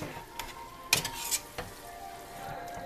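Spaghetti sauce being stirred in a pan, with a faint sizzle throughout and a few sharp scraping and clinking strokes around the middle, close and fairly quiet.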